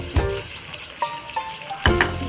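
Grated carrot dropped into a hot pan with ground chilli, cumin and pepper, sizzling steadily with louder bursts of frying and stirring clatter near the start and end.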